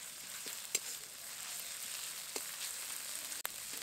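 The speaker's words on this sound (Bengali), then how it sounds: "এটাকেও একটুখানি ভেজে নেব।" Ginger garlic paste frying in oil with onion, giving a steady soft sizzle with a few brief clicks of stirring, close and fairly quiet throughout with no talk.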